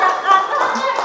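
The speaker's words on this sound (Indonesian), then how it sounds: "Ya, tepuk tangan." A classroom of students applauds, with brief, dense clapping at close range lasting about a second.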